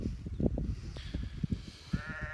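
Sheep bleat several times at a moderate distance, short wavering calls scattered over quiet outdoor background noise.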